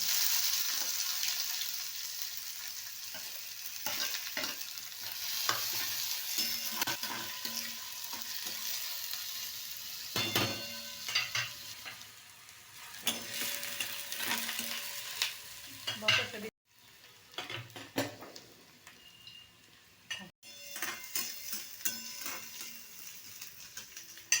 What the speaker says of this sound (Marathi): तेल तापलेलं त्याच्यामध्येच कांदा घाले